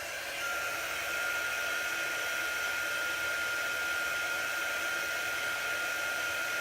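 A heat tool blows steadily for several seconds to dry chalk paste on a wood sign, an even whirring hiss with a constant pitch, close and alone.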